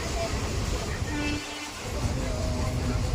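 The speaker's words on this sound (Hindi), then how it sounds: "ट्रेन का सफ़र" A train in motion during a passenger journey, giving a loud, continuous rumble and rattle from inside the carriage.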